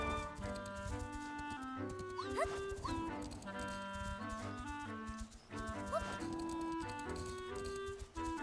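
A horse gallops in a Zelda video game, its rapid rhythmic hoofbeats running under steady looping game music, with a few whinny-like cries over the top.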